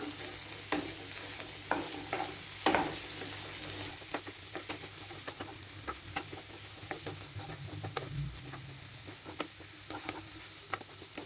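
Lima beans are stirred into masala in a frying pan: a low sizzle runs under frequent scraping and tapping of a spoon against the pan, irregular and close, with no speech.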